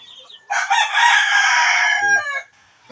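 A hen about to lay an egg gives a single loud, drawn-out, strained call close by, with quieter clucking just before and after.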